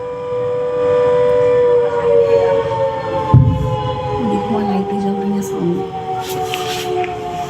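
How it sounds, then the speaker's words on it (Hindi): Warning siren wailing in Jammu during cross-border firing, a long steady tone that shifts in pitch partway through, loud and sustained, with a sharp thud or bang around the middle. "उरी पर भी एलओसी पर पाकिस्तान की तरफ से फायरिंग, और इसके बाद सायरन की आवाज"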